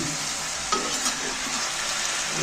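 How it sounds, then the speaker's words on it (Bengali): Palak paneer made without onion or garlic is stirred in a hot pan. A steady, close sizzle of frying runs throughout, with soft scraping stirs and a single sharper knock of the utensil. "ওটাকে এবার আমি মিক্সড করে দিচ্ছি ভালো করে নেড়ে"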